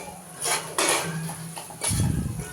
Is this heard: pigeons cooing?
no